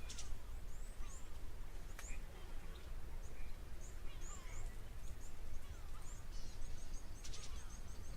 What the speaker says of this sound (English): certainly the sounds of a few birds in the background